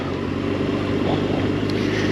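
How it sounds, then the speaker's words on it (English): Strong wind roars steadily across the microphone during a slow motorcycle ride, a continuous low rumbling buffet, loud and unbroken with no voices. "it is really windy today. There's one hell of a side wind coming in"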